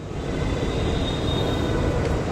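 A Chennai Metro Green Line train at Arumbakkam station gives off a loud, steady rumble that fills the short span without a break, and no one talks.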